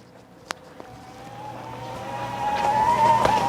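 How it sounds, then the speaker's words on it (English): An electric motor on a CYBEX e-Gazelle stroller whirs up, its whine rising steadily in pitch and loudness, with a couple of small clicks near the start. "you'll hear the motor kind of spin"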